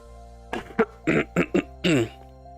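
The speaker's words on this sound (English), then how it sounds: "I'm still coughing" Several sharp, close coughs in a quick irregular burst, followed by a longer throaty cough, with quiet background between.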